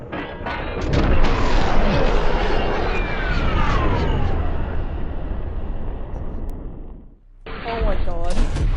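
A Gyrojet antique gun fires and blows up with a loud, booming blast whose rumble lingers and fades over several seconds before stopping abruptly. Voices follow.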